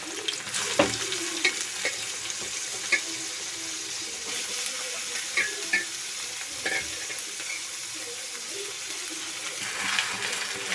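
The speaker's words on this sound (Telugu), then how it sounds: "ఆనియన్స్ వేసాక ఇలా అటు ఇటు కలుపుతూ ఉండాలి" Chopped onions fry in hot oil for a homemade biryani, a continuous sizzle with a spoon scraping and stirring through it in irregular knocks, close and steady, no talk.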